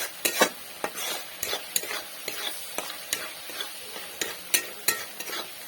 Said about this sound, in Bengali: এটি আমি ভালোভাবে কষে নিচ্ছি।